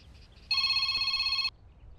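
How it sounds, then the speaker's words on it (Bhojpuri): A telephone rings in one sustained, bright electronic trill lasting about a second, clear and close against a quiet background. "शिवानी शिवानी के फोन।"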